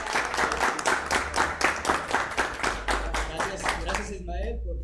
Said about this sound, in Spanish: Pido un aplauso para él y para todo el equipo también.